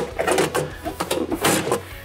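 Plastic inner fender well liner on a Jeep Wrangler Rubicon, slid into place back end first: a close series of scraping, rubbing and knocking thuds in an uneven rhythm, with no talking.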